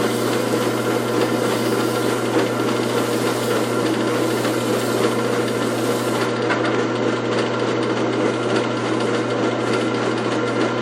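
Sandpaper at 400 grit rubs against a wooden goblet spinning on a lathe, a steady close-up hiss over the constant low hum of the turning machine, carrying on without a break.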